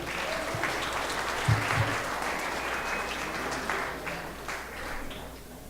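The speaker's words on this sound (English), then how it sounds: "Give them a round of applause as they come up with it." Wedding guests applaud at a reception as the couple comes up for their first dance, a soft, steady wash of clapping that swells slightly midway and then tapers off.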